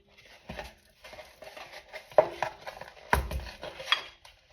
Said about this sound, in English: And we're going to mix this in.